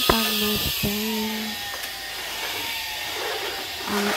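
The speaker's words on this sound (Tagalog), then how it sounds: "Tuloy-tuloy ang pag-vacuum." A household vacuum cleaner runs steadily throughout, its broadband whine constant, with brief tonal beeps or squeaks near the start and end.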